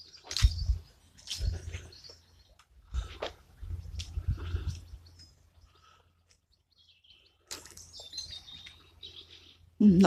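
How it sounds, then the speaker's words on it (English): A pigeon calls in the churchyard of Hathersage church, giving several short chirping calls close by with quiet gaps between them, mixed with rustling and faint outdoor noise. "That was a bird, actually."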